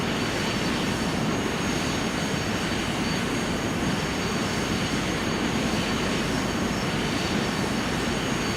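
An aircraft engine taxiing in Microsoft Flight Simulator X at Dodge City Regional: a constant, loud, unbroken engine drone with a steady high whine and no pauses.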